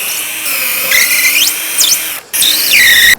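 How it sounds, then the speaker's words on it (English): A power drill bores holes in a workpiece set up with the Parf Guide System, a high whining motor that rises and dips in pitch through several short runs, broken by one brief stop, close and loud. "so that you can drill the rest of the holes"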